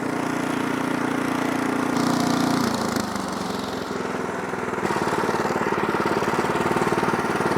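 An Ariens Deluxe 24 snow blower's engine runs steadily and loudly up close in third gear as the machine pivots, its chugging drone shifting pitch slightly partway through.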